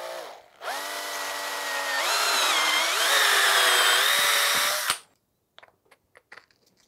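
A power drill bores out the center of a prop shield, a loud steady whine lasting about four seconds and rising in pitch partway through, then stopping abruptly, followed by a few faint clicks and handling knocks.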